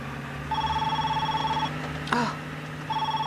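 A phone dialing sequence: steady tones sound in two stretches, about a second each, separated by a short chirpy electronic burst, heard close and clear over a low hum with no voice.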